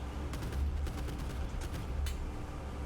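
Enemy gunfire in the naval video game Boat Crew, with mortar positions nearby: faint, distant cracks and pops scattered irregularly over a steady low engine rumble, and one sharper shot near the end.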